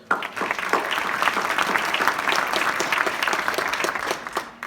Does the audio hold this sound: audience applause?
yes